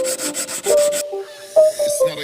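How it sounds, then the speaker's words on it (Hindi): Sandpaper rubbed by hand across a bicycle disc brake rotor, a few quick rhythmic scratchy strokes followed by squeaky, uneven friction sounds, close up. "अब रोटर को सैंड पेपर से घिसना होगा"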